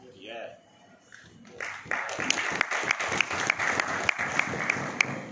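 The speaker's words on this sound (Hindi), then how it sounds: "आप ताली बजा रहे हो।" An audience at a Netsurf Direct training session breaks into steady, dense applause that builds after a voice fades, with sharp individual claps standing out over the crowd, fairly loud and sustained.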